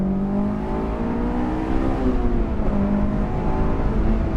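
A Honda S2000 AP2 engine revs out in gear, a steady loud drone whose pitch climbs and dips, close and continuous with no talk over it.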